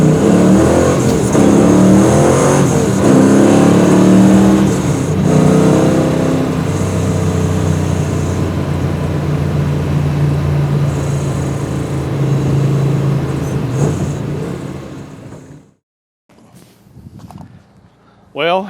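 A 1969 Rambler Scrambler muscle car engine roars and revs loudly and steadily for a long stretch, then cuts out abruptly into near silence before a brief burst at the end, with voices talking over it.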